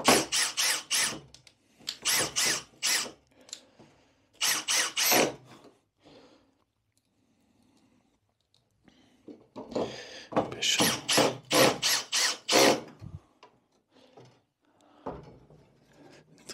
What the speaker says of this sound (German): dann schrauben wir eben hier auch nochmal 4 Schrauben rein